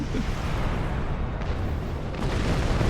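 A sustained explosion-like roar from space combat in the video game Star Trek Online, a dense, loud rumbling wash that holds steady for about three seconds without clear speech.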